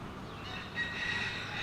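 Chickens on a Korean natural farm, with a rooster crowing and clucking faintly over a steady outdoor background hiss, rising slightly midway, with no speech.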